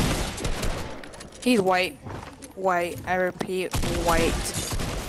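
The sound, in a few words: gunfire in the video game Fortnite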